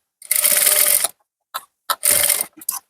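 A sewing machine stitches a finishing seam along a blouse hook strip, running in two bursts of about a second each, separated by short clicks and a few brief mechanical stops.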